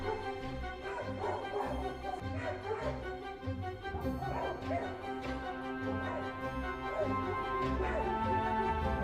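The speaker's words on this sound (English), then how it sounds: "greeted by a domestic dog with warnings" Domestic dogs barking warnings at a cougar near a home, repeated sharp barks and yelps from several dogs at varying distances, layered over a steady droning background hum.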